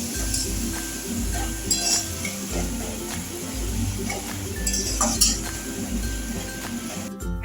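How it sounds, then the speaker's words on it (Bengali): Spring onion mash ingredients being stirred and fried in a pan, with frequent close metallic clinks of a utensil against the pan over a steady low sizzle. "সমস্ত উপকরণ এখন সব মিশিয়ে দিয়ে খুব ভালো করে এটাকে কষাবো।"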